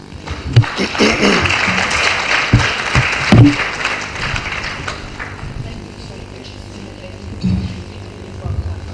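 Audience clapping at a midwifery conference in Nigeria, a moderate, fairly steady patter of many hands with a few sharper bursts, mixed with voices and room noise.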